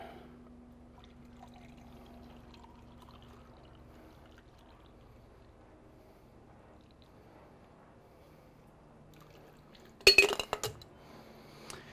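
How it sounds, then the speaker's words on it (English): After a long quiet stretch, a brief burst of glass clinks and liquid splashing as a pineapple milk drink is poured into a glass, close by. "And there we go, let's pour it."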